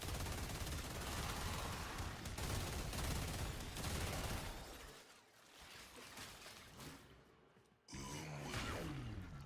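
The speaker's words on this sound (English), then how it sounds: "These pistols are pretty good." Rapid pistol gunfire rattles through a Warframe battle in dense, loud bursts, pausing briefly before another volley erupts near the end.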